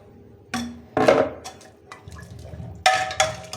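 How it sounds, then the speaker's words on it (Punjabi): Water pours and splashes into a cooking pot for a black and white chickpea curry, a short gush and then a second louder pour, close and clear with no talk. "ਹੁਣ ਆਪਾਂ ਪਾ ਦਈਏ ਜੀ ਪਾਣੀ"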